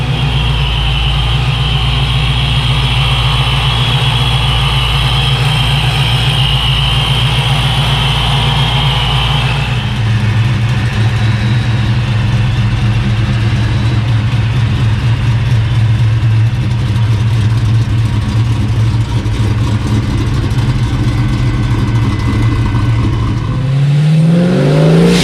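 A 700HP supercharged Foxbody Mustang engine idles with a loud, lumpy low rumble, then shifts to a rougher, busier tone before a sharp rev climbs near the end, close and alone with no talk.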